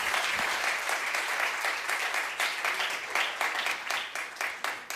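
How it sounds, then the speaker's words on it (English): A conference audience gives a warm round of applause for a research team: dense, sustained clapping that fills the room, close and loud throughout with no talk over it. "Please give another warm round of applause to our core research team."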